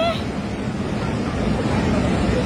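Floodwater roars during a sudden river surge from a glacial lake outburst in Rasuwa, Nepal. The rushing is loud, close and unbroken, a steady turbulent roar across the whole stretch.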